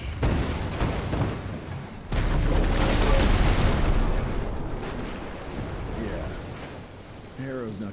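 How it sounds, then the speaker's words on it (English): Dynamite blast in the Western action game Evil West: a loud, sustained roaring explosion with heavy low rumble that swells near two seconds and slowly fades, with brief voices near the end. "I know how to shape an explosion, Edgar."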